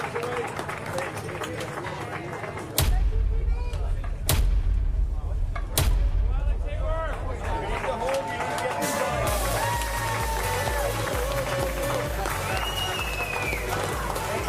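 Crowd applause greets team members being welcomed at the Paris 2024 Paralympic para cycling road race. The clapping and cheering from a large outdoor crowd runs steadily throughout, with several sharp thuds punctuating the first half.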